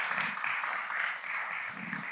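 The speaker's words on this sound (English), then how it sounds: "One more round of applause." Faint applause from a board meeting audience, steady clapping for about two seconds.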